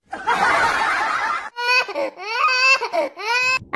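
A cartoon baby cries in several sobbing, wailing bursts with rising and falling pitch, loud and close, following a stretch of broad noisy sound.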